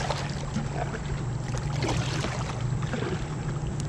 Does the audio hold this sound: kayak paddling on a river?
yes